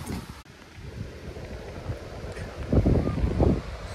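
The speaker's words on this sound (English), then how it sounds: "So the wind's blowing in pretty steady here." Steady wind blows across a tent at a campsite, a continuous rumbling gusty noise buffeting close to the microphone with a few stronger surges near the end.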